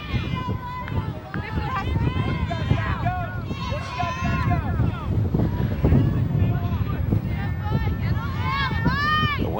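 Wind buffeting the microphone at a girls' high school soccer game, a steady rumbling roar under continuous commentary and crowd noise throughout.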